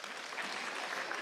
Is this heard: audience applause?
yes